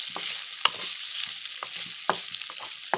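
Chicken frying on a flat dosa tava, a soft steady sizzle beneath repeated sharp scrapes and taps of a spatula at irregular intervals.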